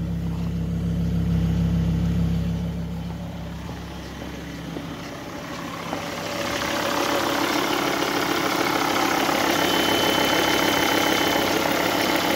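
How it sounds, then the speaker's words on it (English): A Volvo S40 car engine idles with a low, steady rumble, then is revved gently, the sound swelling, dipping and climbing again into a broader, brighter roar. "Let me rev a little bit for you."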